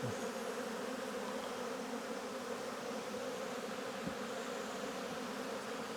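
Honey bees buzz in a steady, dense drone around an open queenless hive during an apiary inspection, a continuous close swarm hum with no talk.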